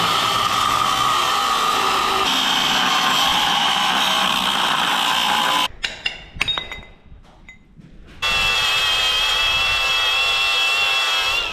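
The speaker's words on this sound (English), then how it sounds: "I've grinded this hinge down, grinded off most of the galvanized" A grinder strips galvanized coating off a steel hinge with a loud, steady abrasive whine and a thin high tone. It cuts out briefly for a few clinks and rattles, then resumes at full strength.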